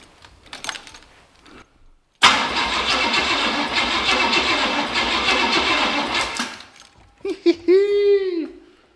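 An '81 Cadillac engine that had not run in about 20 years cranks and catches, then roars loudly and steadily for several seconds before shutting off. A short mechanical whine follows and brief sounds come before it.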